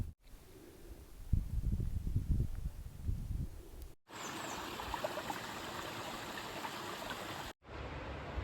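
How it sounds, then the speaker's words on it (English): A small stream along an Appalachian Trail footpath trickles and splashes steadily close by, with louder rushing water after a short cut. "Little surprise water source."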